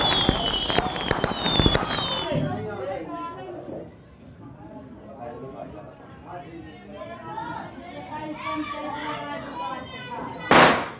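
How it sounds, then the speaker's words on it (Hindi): Diwali firecrackers burst at night in a residential setting, a rapid string of sharp cracks at first, then scattered pops and fizzing at a distance while people chatter throughout, ending with a loud nearby bang. "परी दिवाली मना रही है अच्छे से, पटाखे फोड़ रही ये है"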